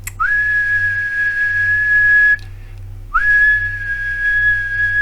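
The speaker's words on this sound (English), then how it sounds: "So if we do the whistle test," Two long, steady, high whistles into a CB radio microphone, each starting with a quick upward slide, separated by a short gap, over a low electrical hum.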